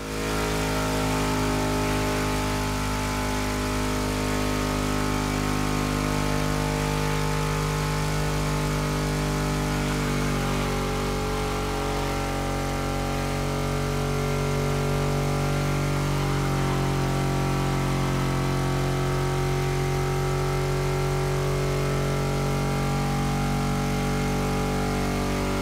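A buffed-up donk car engine idles in The Crew Motorfest racing game, a loud, steady, low droning rumble with layered tones that holds without pause for the whole stretch, no speech.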